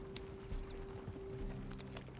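Horses' hooves clip-clop in a steady galloping rhythm in Red Dead Redemption 2, soft and somewhat distant under a low rumble.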